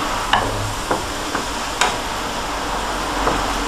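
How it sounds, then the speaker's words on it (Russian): Squid tentacles fry with garlic in a pan, a steady soft sizzle broken by a few sharp clicks of stirring utensils, close and without talk. "Сейчас он добавил к жареному чесноку щупальца кальмаров."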